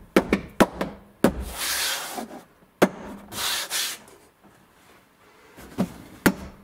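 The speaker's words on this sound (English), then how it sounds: "Now we're going to install the trim at the back gate at the roof area." Trim being fitted at the rear gate roof area inside a 2003 Ford Explorer, with sharp close snaps and taps of plastic clips punctuating stretches of rubbing and scraping against the panel.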